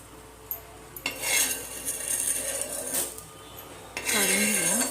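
Coriander and sesame seeds dry-roast on a hot tava: close rattling, clinking and scraping as they are stirred around the metal pan in bursts, with a faint sizzle underneath and a brief voice near the end.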